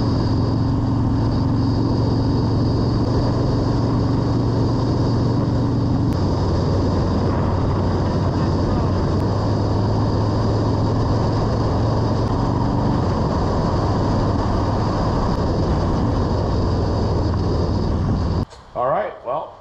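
A motorcycle rides along the road with a steady, loud engine drone and wind rush holding for nearly twenty seconds before cutting off abruptly into a few brief bumps.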